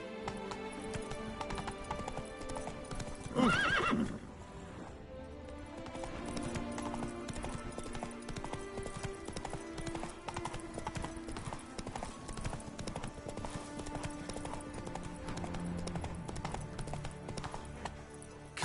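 A horse gallops in the video game Witcher 3: Blood and Wine, a steady rapid clip-clop of hooves throughout with a short neigh early on, under game music.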